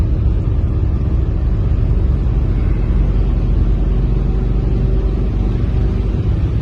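A Dodge Dakota with the 4.7 V8 pulling up to speed, a steady low engine rumble and road drone from inside the cab, loud and continuous without talk.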